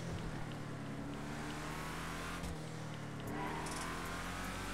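Dominator GTT, a rear-wheel-drive muscle car in GTA Online, its engine droning at a steady low rumble with a brief dip and shift in pitch midway, loud and close with no talk over it.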